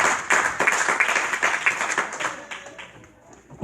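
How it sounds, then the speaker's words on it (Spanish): Applause from a church congregation, a dense patter of clapping that holds steady and then thins and fades toward the end. "Ese aplauso a la gloria de Dios."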